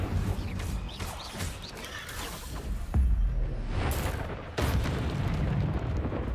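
Hogwarts Legacy's Incendio fire spell bursts out with deep booming thuds and whooshing flame over a rumbling game backdrop, with a couple of heavier hits landing a few seconds apart.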